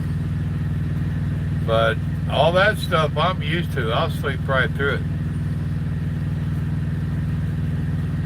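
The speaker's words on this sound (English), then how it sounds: "You might hear my APU unit running." A parked truck's APU runs in a steady low hum with a droning mechanical tone that holds throughout, while someone talks over it close by.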